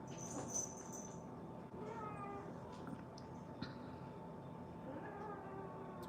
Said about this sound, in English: you can hear my cat